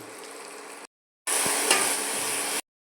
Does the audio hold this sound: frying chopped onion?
yes